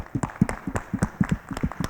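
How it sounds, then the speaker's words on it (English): Sparse applause from a small audience at a forum session, a handful of separate claps in an uneven rhythm, fairly quiet and close, with no talking. "Let's give a round of applause for the Education Department."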